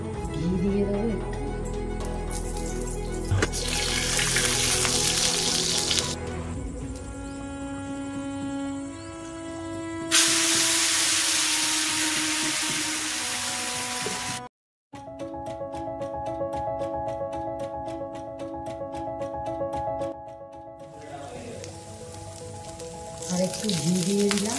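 Moong dal chilla sizzles and crackles in ghee in a pan, a steady frying hiss that swells when more ghee goes in. Background music plays throughout, with a short break partway, and a voice talks at times.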